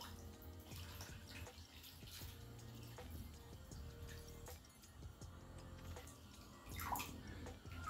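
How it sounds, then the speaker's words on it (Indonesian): A Katadyn BeFree collapsible water filter is dipped and swished in water, giving a steady wash of sloshing and trickling, close and moderately quiet, with no talk. "Jadi cukup dicelupin seperti ini sedikit dan digoyang-goyangin dikit aja ya."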